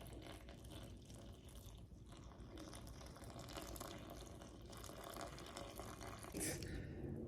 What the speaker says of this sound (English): we need 316 grams of water. So I'm just gonna pour that in here.